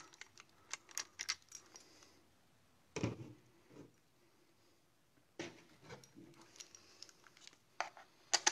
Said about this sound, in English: I don't have a fancy tool for getting that removed, I just use my keys.